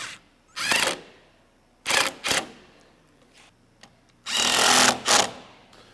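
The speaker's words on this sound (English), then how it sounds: "make sure that they all get a couple of good thread turns before we shoot them in" A power drill driving the mounting bolts for a 50-inch LED light bar on a Jeep, several short loud whirring bursts separated by pauses, close by and with no talk.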